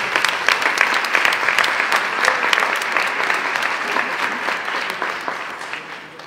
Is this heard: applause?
yes